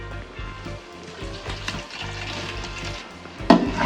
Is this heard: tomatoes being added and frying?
yes